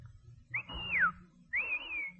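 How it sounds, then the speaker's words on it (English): Two rising-and-falling whistles blown by a person calling for a bus, each about half a second long, clear and fairly loud over a quiet low rumble. "Now, whistle for that buzz."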